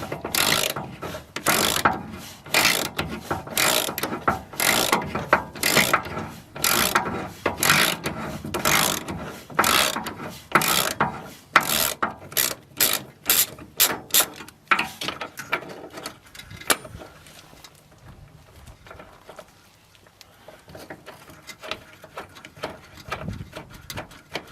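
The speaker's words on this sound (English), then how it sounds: "I've had to put a spanner on the other side because this is a nut and bolt." A spanner ratchets a nut and bolt on the rear subframe of a 1982 Classic Mini Mayfair. Rapid, loud metallic clicking goes in steady bursts close by, then thins into slower, quieter clicks toward the end.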